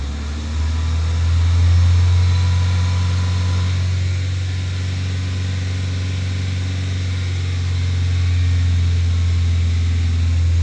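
A Vauxhall Tigra petrol engine is held at fast idle around 2,500 rpm, giving a steady, close, even hum with a strong low drone that swells slightly early on, then holds constant, with no talking.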